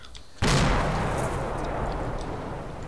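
Mortar fire in a combat operation: after a short quiet moment, a single loud, close blast erupts and leaves a long rumbling, hissing decay.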